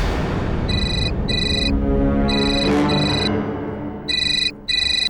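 A phone rings in repeated electronic bursts, pairs of bright tones separated by short gaps, over a background of music.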